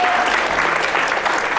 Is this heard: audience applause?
yes